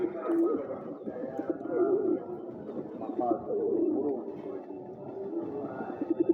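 Sirazi pigeon chicks coo in low, soft, overlapping murmurs close by, a steady bubbling chorus without clear pauses.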